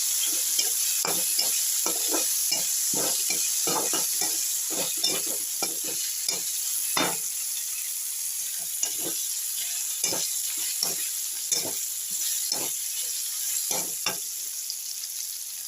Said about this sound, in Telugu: పన్నీర్ ముక్కలు వేసేసి ఇలా ఫ్రై చేయండి.